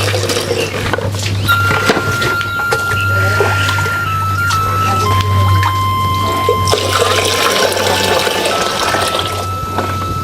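Water pours into a container with a steady splashing flow and a low hum beneath, while faint ringing tones come and go.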